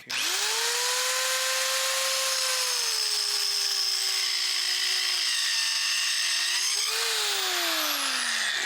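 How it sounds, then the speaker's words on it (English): A mini circular saw cross-cutting pine wood: a loud, sustained high whine whose pitch sags slightly as the blade loads in the cut, then rises again near the end, with no talk. "let's try a cross cut on the wood first"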